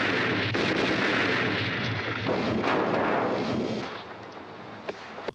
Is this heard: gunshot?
yes